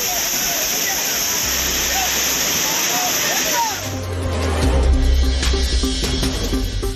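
The Courtallam waterfalls pour with a dense, continuous rushing roar as flood levels ease and bathers return. The roar fills the whole stretch, with a deeper rumble and faint voices emerging in the later half.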